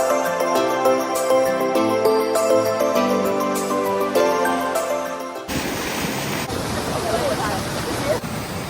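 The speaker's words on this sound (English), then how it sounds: "Oh, it's a river." River flowing near Chiquito waterfall: a steady broadband wash of running water that takes over abruptly midway, continuing loud and close after a stretch of music-like tones.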